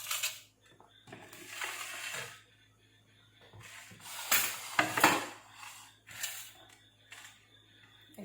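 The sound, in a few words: cutting vegetables with a knife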